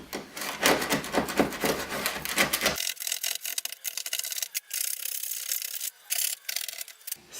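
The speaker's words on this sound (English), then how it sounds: "I only need to scrape to where the ties were." Scraping away glued ballast from model railroad track beside a cut-in switch, a dry rasping wood-like scrape, dense and rapid in the opening seconds, then lighter, thinner strokes that continue close and steady.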